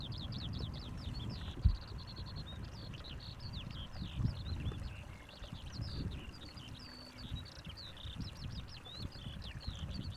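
A single bird perched high up at Schiphol Airport gives quick, repeated high chirps and short trills across the whole stretch, over a low, rumbling outdoor background with a few soft knocks.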